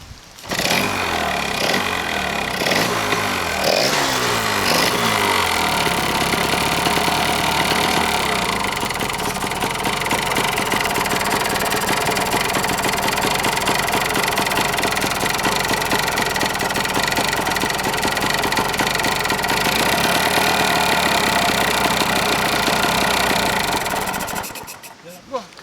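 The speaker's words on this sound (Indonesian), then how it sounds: "kita dengar suara mesinnya deh." A 1982 Yamaha L2 Super motorcycle engine idles steadily up close, a loud continuous rattling two-stroke putter running for about twenty-five seconds before cutting off at the end, with no talk.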